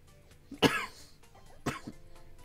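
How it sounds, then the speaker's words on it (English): Two separate coughs from a person during a Mario Kart Tour gaming session, the first louder and harsher, the second shorter, each a sharp burst with quiet room tone between. "I got a annoying cough lately."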